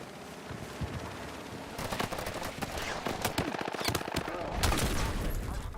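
Gunfire in the video game Battlefield 6, with rapid bursts of shots cracking over a constant background din of battle, growing denser and louder toward the end, with talk mixed in.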